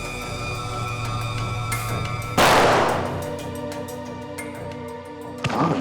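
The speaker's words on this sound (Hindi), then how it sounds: "गोलियां तो लुटेरे ने अंधाधुंध चलाई है सर।" A single sharp gunshot cracks out over a humming, tonal background, followed by a fading tail and a fainter bang at the end.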